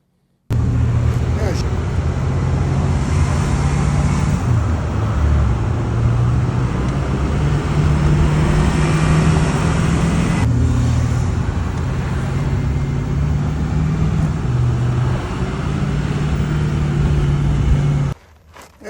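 A bus engine idling roughly with a faulty muffler before repair, a steady loud low rumble with pulsing drone that runs nearly unbroken for about eighteen seconds, then cuts off abruptly.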